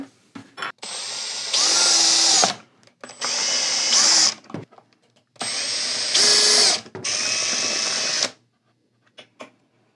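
Power screwdriver driving panhead screws into a bracket for a talking skull jaw servo kit, four whining bursts of a couple of seconds each with short pauses and small clicks between them.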